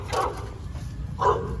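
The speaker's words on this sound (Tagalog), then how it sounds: "May doggy dito alam ko Yan." A dog barks twice, about a second apart, two short moderate barks over a constant rumbling background.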